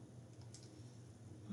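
Quiet typing on a computer keyboard while designing an infographic, a soft run of light clicks close by.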